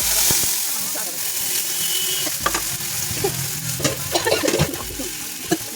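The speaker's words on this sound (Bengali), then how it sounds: "তেলটা গরম হয়ে গেলে তেজপাতা ফোড়ন দেবো তেজপাতাটা দিয়ে ভালো করে নাড়াচাড়া করে নেবো" Oil sizzles and crackles steadily as bay leaves and spices fry, with scraping and stirring clatters from a utensil against the pan throughout.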